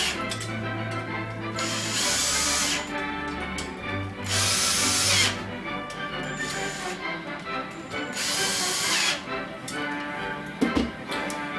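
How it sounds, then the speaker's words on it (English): Spoke nipples on an Ariel Square Four motorcycle front wheel are tightened with an electric screwdriver, heard as several short whirring bursts with ratcheting clicks in between and a sharp clatter near the end. "I've just run around with an electric screwdriver and just finish them off."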